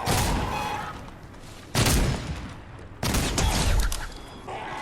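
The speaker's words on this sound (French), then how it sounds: "c'est un sniper qui peut tirer plusieurs fois" Cobra sniper rifle in Fortnite firing repeatedly, three heavy sharp shots about a second and a half apart, each followed by a sustained booming tail.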